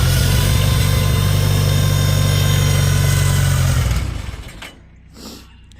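A restored Farmall tractor engine running loud and close with a steady low throb, then cutting out after a few seconds and leaving a quieter tail of fainter noise.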